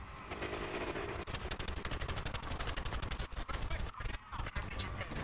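A machine gun fires in rapid sustained bursts in Battlefield Hardline, a fast steady rattle of shots close up and fairly loud, broken by brief pauses near the end.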